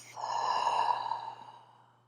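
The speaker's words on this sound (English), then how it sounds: "You might like to take a couple of exhales out through the mouth." A single long breath exhaled through the mouth during a yoga practice, close and soft, swelling then fading over about two seconds.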